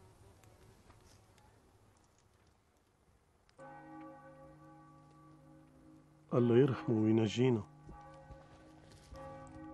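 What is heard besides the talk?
church bell tolling in mourning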